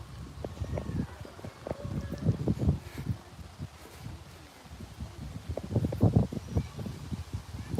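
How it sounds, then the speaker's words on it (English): Gusty wind buffets outdoors during a walk, with low rumbling blasts that rise and fall irregularly and stay fairly loud throughout. "Oh, a little windy here today."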